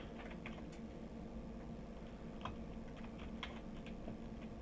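Fingers typing a name on a computer keyboard, a quick run of soft, close key taps over a steady background hiss.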